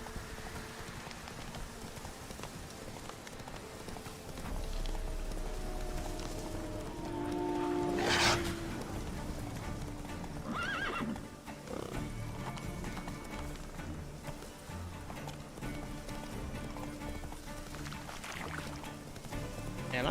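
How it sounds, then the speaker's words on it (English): A horse galloping in the video game Witcher 3, its hooves giving a steady clip-clop rhythm through the stretch, with a brief whinny-like tone near the middle and faint ambient game sounds around it. "I'm gonna ride a horse."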